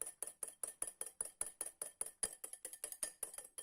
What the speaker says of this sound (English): After you separate your egg yolk from your egg whites, all you have to do is start whisking.